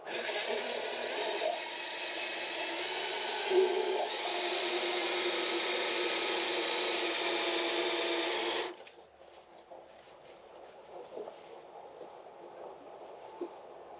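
Fuel gushing from a boat's fuel hose into a jug, a steady, loud hissing rush that runs for about nine seconds and then cuts off, leaving faint clinks and handling sounds.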